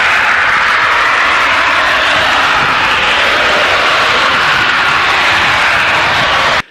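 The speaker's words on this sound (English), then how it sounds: "It sounds like a jet going over your house." Loud, steady jet-like roar from a pipeline facility at night, a broad continuous rushing noise that holds without letup for several seconds before cutting off abruptly at the end.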